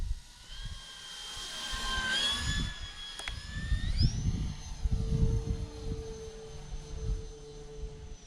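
Turbo Timber Evolution RC airplane in flight, its electric motor giving a steady high whine that rises in pitch as the throttle opens, heard from the ground with light wind noise.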